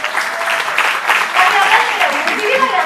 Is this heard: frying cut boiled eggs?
no